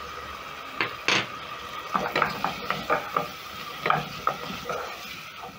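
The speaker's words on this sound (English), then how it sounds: "I'm going to cook the onions until soft and the garlic and ginger is fragrant or cooked through." Onions, garlic and ginger being stirred in a pot for beef stew, giving a string of close, uneven scraping and clinking strokes with a soft sizzle beneath, no voices.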